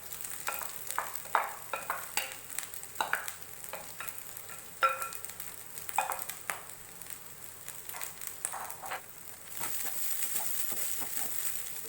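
Boiled rice is tossed and stir-fried in a pan for chicken fried rice, with repeated scraping stirs over a soft sizzle that turns into a steadier frying hiss toward the end.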